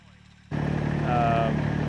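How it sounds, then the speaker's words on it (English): A compact tractor engine drones loudly and steadily while mowing on a slope, its vibrating rumble cutting in abruptly and staying constant, with a faint whine riding on top. "this engine started vibrating and making a lot more noise"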